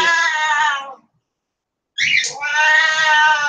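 A cat on the floor meows loudly and insistently for food, two long drawn-out crying calls close by separated by a second of silence, the second starting with a sharp squeak.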